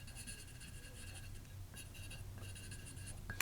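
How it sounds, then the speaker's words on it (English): A pen writes on a small sheet of petition paper for a candle magic spell, soft close scratching strokes in short bursts with brief pauses, quiet and without talking. "you just write that out simply on your petition paper"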